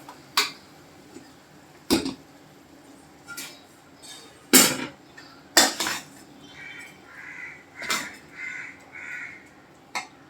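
Cooked eggplant bharit scooped from a pan into a serving dish, with several distinct clinks and scrapes of utensils against metal and crows cawing repeatedly nearby in the background.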